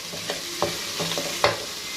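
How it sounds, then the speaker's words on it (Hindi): A little water goes into hot masala for white chana, giving a soft sizzle under a few short, sharp stirring scrapes and hisses spread over two seconds, with no talking. "हल्का सा पानी हम ऐड करेंगे।"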